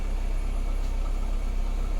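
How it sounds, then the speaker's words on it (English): A Peugeot 307 180hp Feline engine idles at a steady, even hum, close and moderately loud, with no voices. "Let's start the engine so I can come out."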